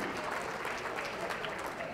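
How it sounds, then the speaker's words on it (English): Dense, steady clapping from a crowd, sustained applause filling the whole moment without pause. "Let's give them a great round of applause representing Hadley Middle School."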